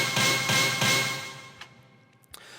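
A 90s rave stab synth 'Hit' with long decay and release plays three bright, punchy chord stabs in rhythm, then the last one rings out and fades, followed by a couple of faint clicks.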